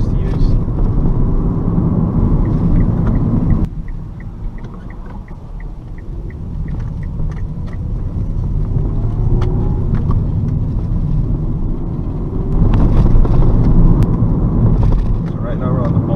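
2012 Kia Cee'd TX 1.4 MPI driving on bumpy back roads, a steady low engine and road rumble inside the cabin with thumps and rattles from the rough surface, while someone talks over it.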